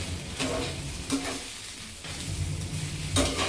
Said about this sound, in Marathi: हे व्यवस्थित मिक्स होईपर्यंत आपण ह्याला असं परतत राहायचं आहे थोडंसं.